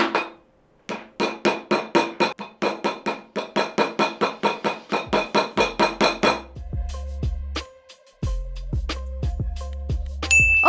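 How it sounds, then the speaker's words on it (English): A hammer strikes the display of an HONOR X9b 5G phone in a quick run of about twenty sharp, ringing metallic taps, followed by a few heavier thuds and low tones. "the team wants me to do a hammer test to highlight the strength of the X9b's display durability"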